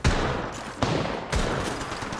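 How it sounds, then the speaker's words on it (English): Rapid bursts of gunfire in the mobile battle royale game Apex Legends Mobile, loud and close, with three sharp volleys in quick succession and dense crackling in between. "Opening fire."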